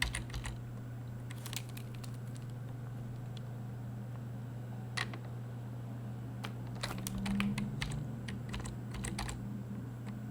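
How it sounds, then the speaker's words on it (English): Computer keyboard arrow keys tapped in scattered clusters of quick clicks over a steady low electrical hum, nearby and fairly quiet, with no voices. "you can use the arrow keys left, up, right, down to get it into position"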